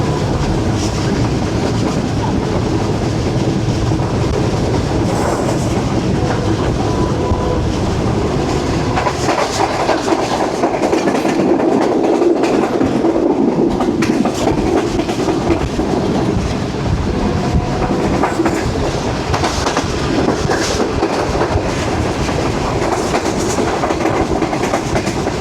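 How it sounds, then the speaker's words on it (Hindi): The New Shalimar Express rolls through Chak Jhumra junction, heard from on board as a loud, continuous rumble of wheels on rail with rattling carriages and clickety-clack rhythm throughout. "अभी ट्रेन हमारी गुजर रही है चक झुमरा जंक्शन से"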